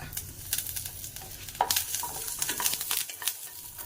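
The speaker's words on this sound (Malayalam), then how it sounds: "ഒരു ഇച്ചിരി കറിവേപ്പിലയും കൂടി ഇടാം." Curry leaves drop into hot oil in a pan and sizzle loudly, with crackling bursts and a sharp pop, while a spoon stirs and scrapes; close and busy over about four seconds, no talking.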